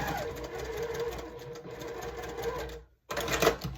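A sewing machine stitches a quilt block in a steady, close whir that runs for nearly three seconds, stops briefly, then starts up again.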